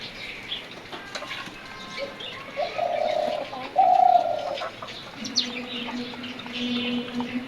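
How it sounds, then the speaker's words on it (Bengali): Dove cooing on a rooftop garden, a few soft, low hollow coos repeating in a steady rhythm at moderate distance, with faint chirps and outdoor ambience around them. "ঘুঘু পাখির ডাক।"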